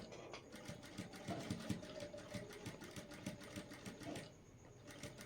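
A sewing machine stitches the corner of a blouse neckline in a steady, rapid run of needle strokes, with a short pause near the end before the stitching resumes.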